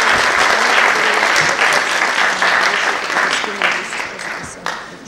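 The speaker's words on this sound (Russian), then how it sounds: "Под ваши аплодисменты" An audience at a Khasavyurt City Day concert in Dagestan breaks into sustained applause after an official greeting, a thick, steady wash of clapping that slowly thins toward the end, with faint voices underneath.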